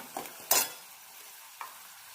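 Curry leaves hit hot oil with reddened onions in a pan, giving a short bright sizzle burst and a couple of fainter crackles with quiet gaps between them.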